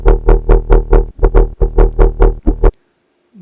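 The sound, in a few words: bass synth with polar distortion effect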